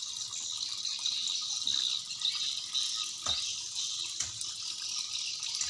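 Fountain water splashing steadily into a fish pond in a garden, a continuous bright hiss of falling water with small gurgles and a couple of brief knocks, moderately near and without talk.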